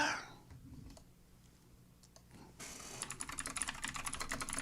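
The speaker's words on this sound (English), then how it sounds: "Uh-oh, he typing fast." Fast typing on a computer keyboard, a dense run of quick clicking keystrokes that starts faint and becomes louder and busier in the second half, with no talking over it.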